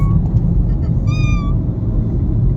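A ginger cat gives one clear, rising and falling meow midway, heard close against a steady low rumble, with a fainter brief cry near the start.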